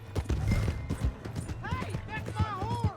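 Horse hooves clip-clop in Red Dead Redemption 2, a rapid run of hoof beats heard under shouted voices and game effects.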